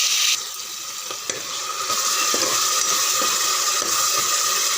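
Ambur biryani masala with ginger garlic paste sizzles steadily in hot oil, a continuous close frying hiss broken by occasional scrapes and stirring clicks.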